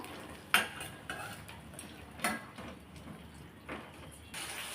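Tomatoes sautéing in a pan for chutney, with scattered scrapes and clinks of a spatula against the pan over a soft continuous sizzle, several distinct stirring strokes close by.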